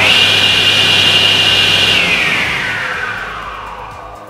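A SIP 01332 professional cast iron table saw runs with a loud, steady high whine that begins to fall away near the end as its motor note drops and fades.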